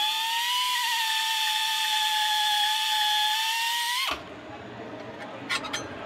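A Pro Spot spot weld drill spins into steel with a loud, sustained high-pitched whine that rises slightly under pressure, then cuts off abruptly, leaving faint room noise and a couple of light taps.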